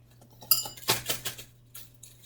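A knife cuts through sticky marshmallows on a hard surface, giving a few sharp clinks and taps followed by a short cluster of knocks, close and isolated against a quiet background with a faint hum.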